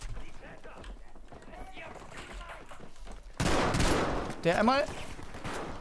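Shotgun gunfire in a first-person video game sounds as a burst of loud blasts among battle noise, with a teammate talking excitedly over the fight.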